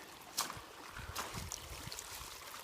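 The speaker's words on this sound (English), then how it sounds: "this is the water coming out of this culvert." Water runs out of a stone-fronted culvert along the Starr trail in winter, a soft steady wash of flow with a few brief splashy bursts and faint handling noise close by.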